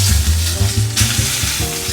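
Chicken skin sears in an oiled pan with a dense, steady sizzle and fry crackle, loud and close, interrupted now and then by low bumps of the pan being handled, with no voice.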